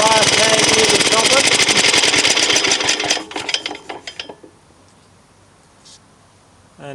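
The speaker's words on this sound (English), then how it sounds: "we're going to stop the motor now" A vintage J.A.P. engine in Australia runs loud and steady with a rapid mechanical chatter, then is cut off and winds down over a couple of seconds, leaving near silence before a brief noise at the end.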